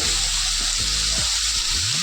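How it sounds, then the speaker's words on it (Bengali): Mixed winter vegetables lightly frying in oil for pasta, a dense steady sizzle close up with a few soft stirring scrapes, no voices. "ভাজা করে নেবো, হালকা করে ভেজে নেব।"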